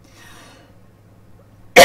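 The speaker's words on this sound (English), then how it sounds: "Forgive my cough." A quiet room with faint murmuring, then one sharp, loud cough bursts out close by at the very end.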